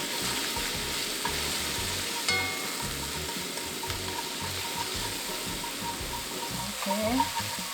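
Garlic sizzles in avocado oil in a pot while japchae is being made, a steady close frying hiss with occasional utensil clinks and a brief scrape near the end.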